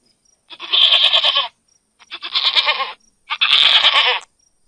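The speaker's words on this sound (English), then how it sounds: "Goat." Three loud, wavering goat bleats, each about a second long, separated by short silences and heard up close.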